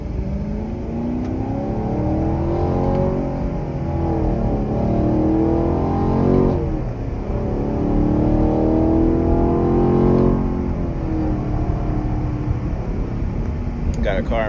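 A stock exhaust on a car with the secondary catalytic converters removed, heard from inside: a deep droning rumble that swells with repeated revs and rising acceleration, loud and close throughout.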